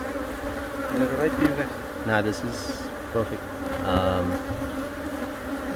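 Bees buzz loudly and continuously during a bee removal from a colony full of queen cells, nearby insects swelling and fading in pitch as they fly past, while a person speaks briefly over the hum.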